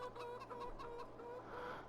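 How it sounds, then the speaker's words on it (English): Chickens and a rooster on a farm in the video game Farming Simulator cluck in quick, repeated bursts, faint and close, over a low steady hum. "The old rooster's over here too."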